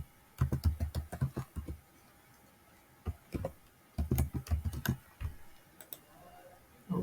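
Someone types a username and password on a computer keyboard in quick bursts of close, crisp keystrokes separated by short pauses.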